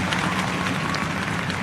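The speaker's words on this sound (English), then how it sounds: "Let's applaud them." An audience applauding at a gathering of regulars and newcomers, steady dense clapping that fills the room evenly throughout, with a faint murmur of crowd noise underneath.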